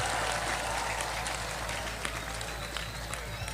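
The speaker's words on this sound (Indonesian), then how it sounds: "Tepuk tangan untuk kita semuanya." Crowd applause from a large gathering of residents and worshippers at a religious event in Jepara, Indonesia; a broad, steady wash of clapping with some rumble underneath, fading slightly toward the end.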